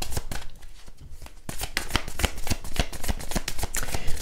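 A deck of oracle cards is shuffled close up, giving rapid, crisp riffling and flapping strokes in quick repeated bursts, alone without talk.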